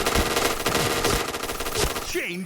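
Automatic weapons fire in the Point Blank online shooter game, with rapid, loud bursts repeating at close range. A brief electronic game tone rises near the end.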